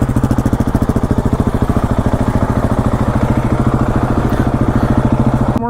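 A motorcycle engine fitted with two counterbalancers runs loudly up close, giving a steady, rough, rapidly pulsing chug that rattles like a broken tractor, with no voices over it.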